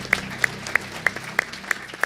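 An audience at a RuneScape RuneFest panel claps together, a fairly soft, steady wash of applause from a room of people with a faint murmur of voices under it.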